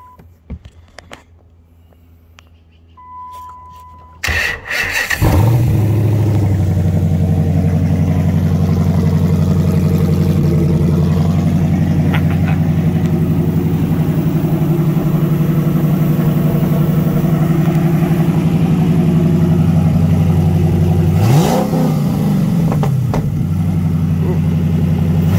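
A Hemi V8 swapped into a Fox body Mustang with a twin turbo setup catches after a brief crank, then idles loud and steady close by, with a quick rev near the end before settling back to idle.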